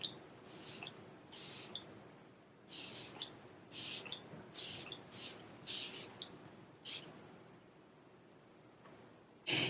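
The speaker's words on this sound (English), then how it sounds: "This is a super fine mist" A makeup setting spray bottle puffs out a super fine mist in about nine short, sharp hissing bursts, each brief and close, spaced irregularly over a quiet background.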